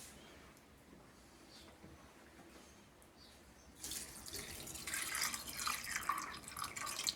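Water poured from a tap into sago pearls for a juice-based sago dessert, starting abruptly midway as a bright, close splashing stream over quiet room noise, without speech.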